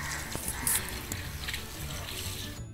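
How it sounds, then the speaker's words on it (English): Cold tap water runs steadily into a sink, rinsing excess acrylic paint dye from a tie-dyed tote bag, a close continuous hiss and splash without talking. "I washed it with cold water to take the excess colors out."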